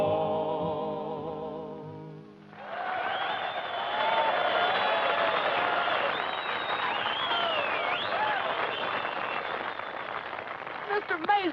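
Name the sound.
crowd cheering and applauding at a show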